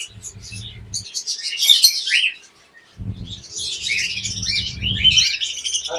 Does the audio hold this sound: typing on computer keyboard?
no